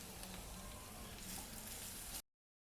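Ground spices sizzle steadily in hot oil for a methi (fenugreek leaf) dish, a close, continuous crackling fry that runs unbroken for about two seconds and then cuts off abruptly.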